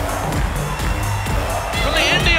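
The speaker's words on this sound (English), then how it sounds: "Listen to this crowd, David. They absolutely love Chantilly Chella." A women's wrestling crowd at the Belasco Theater cheers and shouts loudly in a steady roar, with whoops and rhythmic bursts throughout.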